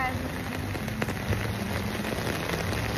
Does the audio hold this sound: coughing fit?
no